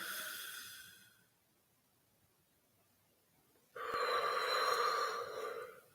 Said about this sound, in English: you're yawning